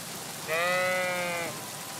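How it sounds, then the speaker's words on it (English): A lost ram bleats once in the video game Kingdom Come: Deliverance II, a clear, wavering sheep call lasting about a second, close and loud over quiet ambient background. "This must be the lost ram. Greetings, sheep."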